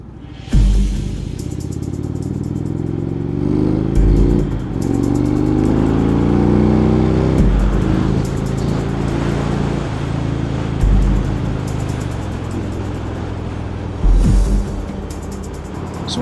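Indian motorcycle cruising on a motorway at a steady pace on cruise control, a loud, continuous engine drone with heavy wind rumble and occasional gusty bursts, no speech.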